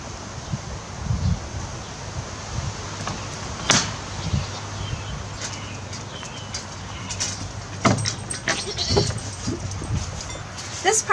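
Goats in the goat section of a small farm barn shared with chickens, giving a few scattered short bleats over quiet rustling and shuffling, with faint voices in the background.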